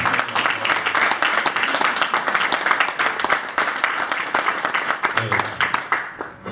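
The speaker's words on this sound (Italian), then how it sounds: "E fate un applauso di incoraggiamento." Applause of encouragement at a local political event presenting a mayoral candidate, a smaller group clapping in sparse, uneven bursts that continue steadily before thinning out.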